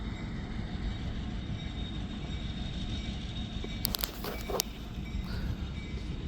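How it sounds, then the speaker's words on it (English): A transport train passes near the Gettysburg battlefield, making a steady, continuous low rumble of rolling wagons with a brief burst of metallic clanks and squeals partway through. "Just a transport train."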